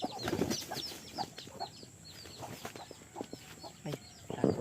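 Chickens and small chicks cluck and peep busily around feed on a Philippine countryside farm, with repeated close chirps and clucks over a low rustling background.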